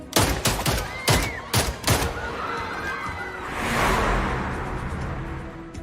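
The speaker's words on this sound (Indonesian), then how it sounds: "Jaksa Han menembaki Yaksa dengan beberapa kali tembakan" Gunfire in a Korean film: a rapid burst of five or six loud, sharp shots fired in quick succession, followed by a rushing whoosh that swells and fades.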